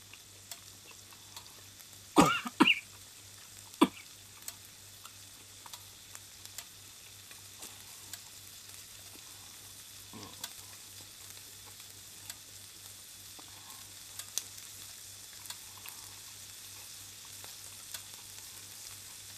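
Store-bought charcoal-grilled chicken reheating on a hot plate gives a quiet, steady sizzle, broken by a couple of sharp clinks and scrapes early on and a few soft ticks later, with no talking.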